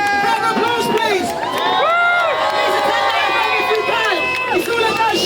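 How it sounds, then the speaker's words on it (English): A crowd at a street march for the homeless cheers and whoops loudly and continuously, many overlapping voices shouting together close by. "Round of applause, please."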